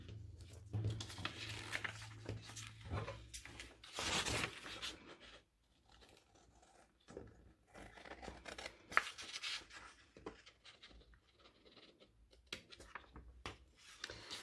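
Quiet scissors snipping and paper rustling while cutting around a butterfly shape drawn on paper for a mini book, with soft irregular crinkles and short cuts, clearer in a brief burst early on.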